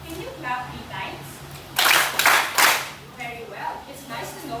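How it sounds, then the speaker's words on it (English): Three sharp, evenly spaced claps from a class ring out close and loud, with quieter speech before and after. "If you are well, can you clap 3 times?"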